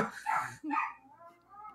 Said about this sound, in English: And this is the bark that she does when she's mad at a cat.